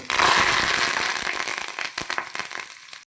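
Green chillies and curry leaves hit hot tempering oil in a small kadai, giving a loud burst of crackling and spattering that gradually thins into scattered pops before stopping abruptly.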